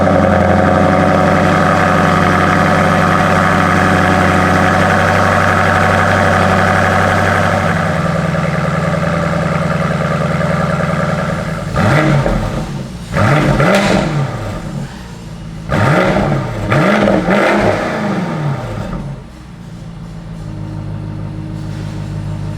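A BMW X6 M50i with an Akrapovic exhaust idles with a steady low burble, then the V8 is blipped through several sharp, loud revs that rise and fall back to idle, close and alone.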